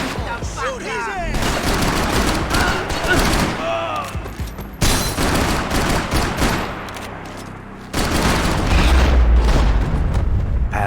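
Gunfire in Max Payne 3, heavy bursts of shots and booms in loud clusters separated by brief breaks, with shouting voices over the action.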